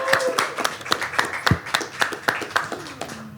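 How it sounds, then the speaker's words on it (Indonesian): A small podcast-studio audience claps for a guest with sharp, distinct handclaps in an uneven rhythm. Voices murmur and chatter quietly beneath and between the claps. "Aduh, tepuk tangan dulu buat Hazard."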